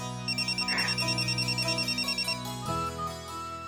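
A telephone ringtone in a Hindi TV drama sounds as a steady pulsing electronic trill for about two seconds, then stops as background music carries on underneath.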